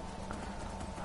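Horse hooves clip-clop in the Skyrim video game, a quick steady run of close hoof falls with no talk over them.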